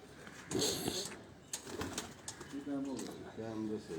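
In a loft, pigeons give low rolling coos close by, several distinct calls toward the end, after a stretch where someone speaks briefly over them.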